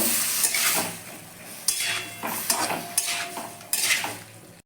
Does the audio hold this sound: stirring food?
yes